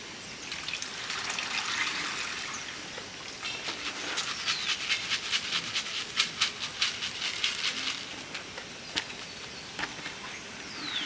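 Water trickles and splashes steadily while pulped coffee is washed by hand, with soft patter and a run of close, rhythmic sloshing bursts in the middle.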